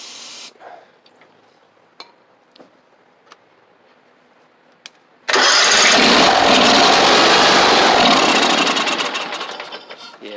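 A John Deere X500 garden tractor's small engine with fuel-related trouble: a few faint clicks, then it suddenly cranks and catches, running loud and close for several seconds before dying away.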